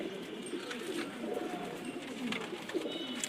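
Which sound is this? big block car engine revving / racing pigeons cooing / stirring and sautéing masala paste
racing pigeons cooing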